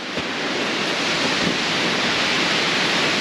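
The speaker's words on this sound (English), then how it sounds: "I wish the rain would stop." Steady rain falls outdoors in snowy woodland, a dense, even hiss that stays constant and fills the whole moment without any talking.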